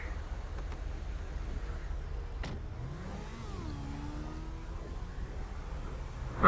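Car engines in GTA V road traffic hum at a low, steady level, with one vehicle accelerating through rising and falling revs midway before a sharper burst at the end; no talking.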